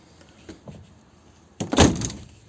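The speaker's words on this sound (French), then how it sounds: "quand je tape dessus ou quand je ferme ma porte" A side or sliding door on a Fiat Ducato camper van slams shut with a loud, close, dull thud, following a couple of faint knocks, with no talking.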